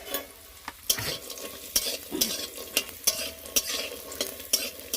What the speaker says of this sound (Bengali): বেগুন পোড়া দিয়ে খাওয়ার জন্য বড়িটা ভাজছি।